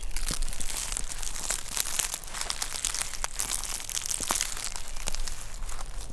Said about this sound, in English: Crunchy, crunchy leaves.